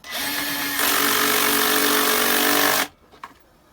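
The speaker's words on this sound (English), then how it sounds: "we're just using a regular screwdriver drill to get them flush" Cordless screwdriver drill driving bolts into a Hayward Super Pump II during a seal and impeller replacement: a close, loud, steady motor whine lasts almost three seconds, rising slightly in intensity partway through, then cuts off, followed by a few small metallic clinks.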